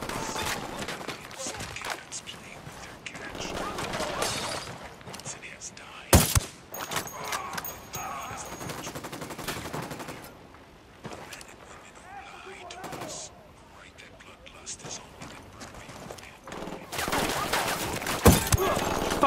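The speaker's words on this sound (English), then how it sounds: "I'm opening fire." Gunfire in the PS4 tactical shooter Ghost Recon Wildlands: repeated shots and bursts crack through a busy game mix, with voices in the background and loud spikes scattered throughout.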